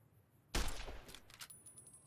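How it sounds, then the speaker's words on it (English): A varmint rifle fires at sarsaparilla bottles on a fence in Fallout New Vegas, one sharp report followed by a decaying rumble and a faint ringing tail. "Take this and try to hit a couple of them. a varmint rifle."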